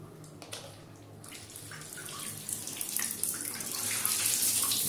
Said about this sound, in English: First on the shower, I'll just turn it on.